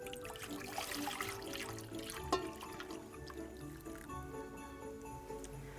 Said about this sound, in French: on vient verser l'eau chaude à l'intérieur